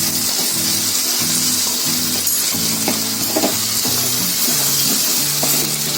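Vegetables sizzle and fry in a pan as ginger-garlic paste goes in, with steady loud frying and sharp spattering throughout, plus occasional stirring scrapes and light clinks of a utensil against the pan.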